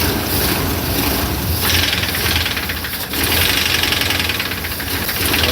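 A box van engine runs steadily with a rough, knocking clatter throughout, loud and continuous, with a brief dip in level partway through and no talk.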